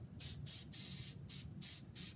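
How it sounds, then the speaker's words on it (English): A can of edible food spray fires in a series of short, steady hissing bursts, about five pulses separated by brief pauses, close up. "we're going to go ahead and start spraying it"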